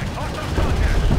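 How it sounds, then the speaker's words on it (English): Gunfire striking an armored vehicle in Homeworld: Deserts of Kharak, a dense, rumbling barrage of rapid impacts with no clear break between them, heavy in the low end and loud throughout. "Armor vehicle taking effective fire."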